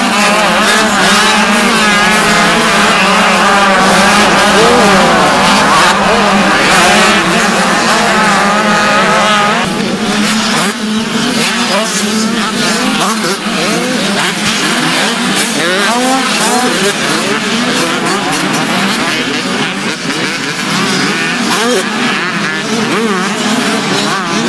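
Motocross motorcycles race at the Mārupe track, their engines a loud, continuous, overlapping roar of revving and gear changes that never lets up.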